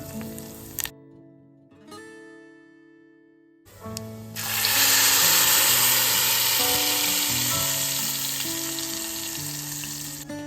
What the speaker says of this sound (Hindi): अब इसका तड़का तैयार करते हैं।